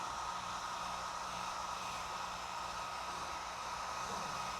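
A hair dryer blows steadily on a freshly finished wood carving, a constant broadband whoosh with a low hum beneath, close and unbroken.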